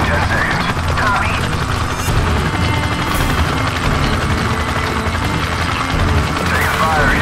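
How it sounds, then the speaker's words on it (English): Gunfire in the video game Call of Duty 4: Modern Warfare during a combat mission: dense, continuous bursts of shots and crackling fire with sharp impacts, loud and close, under a busy battle din with voices mixed in. "Taking fire here"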